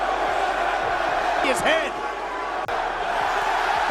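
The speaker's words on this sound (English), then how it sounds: "Crowds rained down boos on him in the opening match and in the main event." A large WWE wrestling crowd jeers John Cena with a dense, sustained roar of booing, loud and continuous throughout, with an announcer talking over it.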